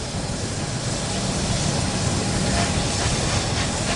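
A goods train at a steam rail open day rumbles past at close range, a steady broadband roar with hissing and faint rhythmic clatter of wagons throughout.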